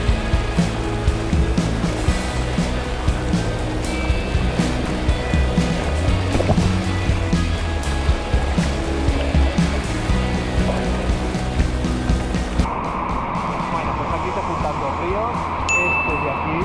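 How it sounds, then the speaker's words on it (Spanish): A river with a gentle current flows at Broto, Huesca, a continuous close rush and splash of water that softens and thins near the end. "como veis aquí, el río tiene un poquito de corriente"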